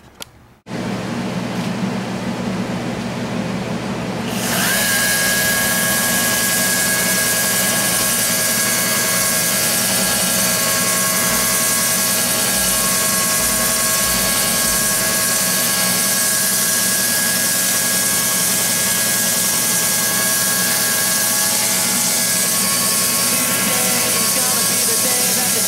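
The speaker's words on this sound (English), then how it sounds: "50, 100, and 200 grit honing cuts, trying to polish after the 200 grit" Marble polishing machine honing a marble floor with a 50 grit pad in Jacksonville, a steady loud motor drone with a grinding hiss that starts abruptly after a brief pause and runs continuously to the end.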